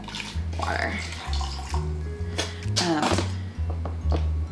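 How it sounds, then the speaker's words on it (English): Water splashes and gurgles as a baster squirts into a sensory bin of water for young children, with close splashing and a few thunks under talking. "And this one lets out a lot of fun water."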